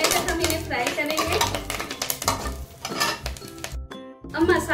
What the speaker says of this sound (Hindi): अब मसाले अच्छे से तड़क रहे